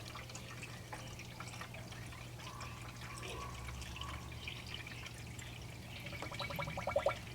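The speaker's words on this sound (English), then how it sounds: "You can hear it going into the radiator now." Liquid trickles and drips into the radiator of a 2002 Dodge Intrepid 2.7L. The steady, faint pouring sits under a low mechanical hum and swells slightly near the end.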